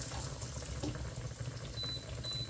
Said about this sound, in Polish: Na dosyć głębokim tłuszczu musimy to smażyć